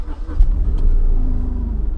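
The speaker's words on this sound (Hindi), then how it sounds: "गाड़ी स्टार्ट करके देखें एक बार" A Tata Nano's small engine catching and idling after a starter relay replacement, a close, loud low rumble that turns over and settles into a steady idle.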